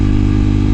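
KTM RC390 motorcycle engine running with no muffler, a loud, steady, throaty low drone held evenly throughout without breaks.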